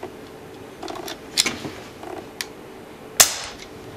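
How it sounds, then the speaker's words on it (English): A Crosman 2240 air pistol converted to PCP high-pressure air fires pellets, giving two or three sharp, brief cracks spaced apart over a quiet background, the last one the loudest. "Shot six different types of pellets from very heavy to very light"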